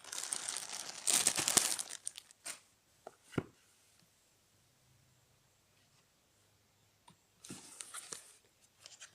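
Crinkly rustling and tearing of newspaper wrapping being pulled off a parcel, in two loud close bursts at the start and end with a few sharp handling clicks between and near-silence in the middle.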